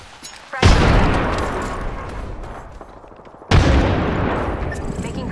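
Frag grenade explosions in the battle royale game Apex Legends: two heavy booms, the first near the start and the second a few seconds later, each followed by a long rumbling decay with scattered crackle.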